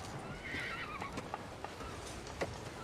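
A horse whinnies in a drawn-out neigh, with a few faint hoof clops and snorts following at moderate distance over a steady hiss of background ambience.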